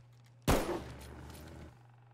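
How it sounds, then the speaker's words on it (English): Single close gunshot in a Bigfoot-hunting video game, a sharp loud crack followed by a short fading tail over a faint steady hum. "Hopefully the gunshots don't scare him."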